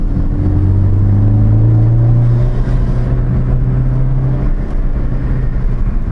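Ford Focus ST held in second gear through tight mountain turns, its engine droning loud and close with a steady low rumble that rises and eases slightly, no talk over it.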